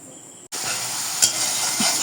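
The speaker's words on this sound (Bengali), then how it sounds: "সব মশলাগুলো দেওয়া শেষ এখন ভালো করে কষিয়ে নিব" Raw jackfruit curry with spices being sautéed in a pan, a loud sizzle bursting in abruptly after a brief quieter hiss and continuing evenly, with one sharp clack partway through.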